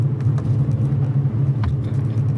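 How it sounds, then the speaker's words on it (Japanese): Nissan Skyline V35 coupe with a manual gearbox, engine rumbling close and steady with a slight rise from a throttle blip during a gear change. "ちょっと200回転ぐらい煽りすぎちゃいました。"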